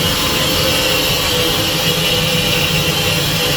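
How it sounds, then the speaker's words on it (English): A steam locomotive stands on the Severn Valley Railway during a spring gala at Kidderminster, giving off a loud, continuous hiss and roar close by. "we all like a steam engine."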